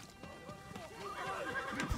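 A horse whinnies in the video game Ghost of Tsushima, a faint neigh with hoof clip-clops amid quiet game ambience.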